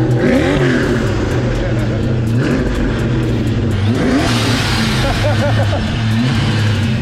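A Ford Mustang's 302 V8 engine rumbles steadily through its exhaust, with deep revs rising and falling over a loud, continuous drone.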